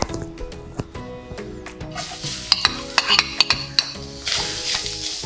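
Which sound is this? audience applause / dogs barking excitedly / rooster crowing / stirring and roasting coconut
stirring and roasting coconut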